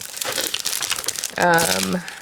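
Plastic bag from a craft supply package crinkling as it is handled, a burst of rustling over a low hum, with a person talking through the handling.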